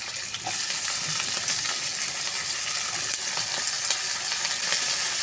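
Okra fries with onion in a pan, a loud, continuous sizzle with small crackles and pops throughout and occasional light clinks.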